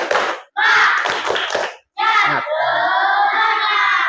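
Children in a classroom chant and clap together in a group spirit routine, with bursts of rhythmic hand claps mixed with loud young voices and a sustained shouted cheer at the end.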